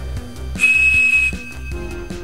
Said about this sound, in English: The Captain Crunch whistle, and if you glue this hole right here,